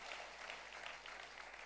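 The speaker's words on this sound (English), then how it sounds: "Thank you for the two people clapping there." Scattered clapping from a few people, faint and steady through the short stretch, with no voices over it.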